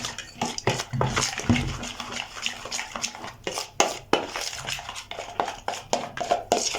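Spiced sauce for chicken, with saffron and chili flakes, being mixed in a bowl: repeated clinks and scrapes of a utensil against the bowl, with wet stirring in an irregular rhythm, close and moderately loud.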